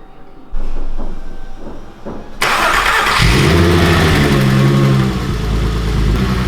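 A 2.8-liter 12-valve VR6 in a VW GTI cranks briefly and catches almost instantly, then settles into a loud, steady, smooth idle close by.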